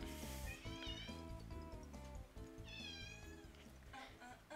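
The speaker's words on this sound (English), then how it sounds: "And now my cat is going crazy." A cat meows and caterwauls repeatedly in a steady stream of drawn-out, wavering cries, close and fairly loud, with no one talking over it.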